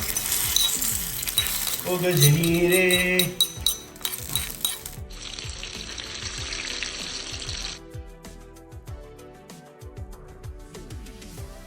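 Onion tempering fries in a pan, with a burst of loud sizzling and spattering at first that settles into steady frying, clinks of a utensil against the pan, and a voice talking over it.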